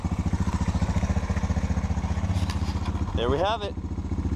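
A 2004 Honda TRX 250 Sportrax ATV engine idling close by with a fast, steady putter, then revving briefly near the end while a voice speaks over it.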